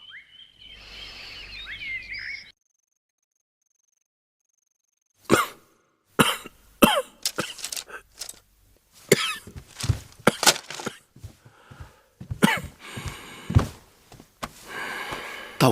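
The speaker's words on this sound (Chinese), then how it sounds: "怎么突然咳嗽起来了？" A king in an ancient Chinese palace drama coughs in a series of sharp, close bursts, with a few quieter breaks in between, after a short stretch of rustling and then a pause of near silence.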